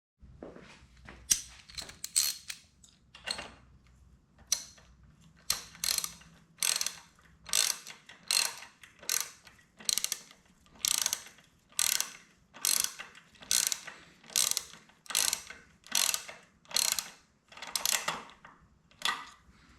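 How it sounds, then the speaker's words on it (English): A ratchet tightens a spark plug on a 1987 Kawasaki KDX 200 dirt bike, sounding as a long, even series of close, sharp clicking strokes after a few slower, uneven turns. "And then we'll send her home with a ratchet."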